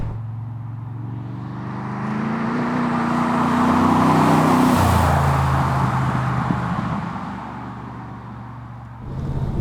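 Chevrolet 5.7 litre small block LS V8 in a Dax 427 AC Cobra replica, tuned by Roadcraft, rumbles close by, rising through the gears in a loud accelerating roar, with a gear change midway before settling to a lower drone.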